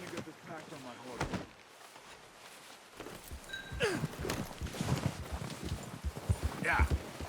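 Horse hooves clip-clop in Red Dead Redemption 2, soft uneven footfalls mixed with game ambience and scattered thuds while voices talk over them.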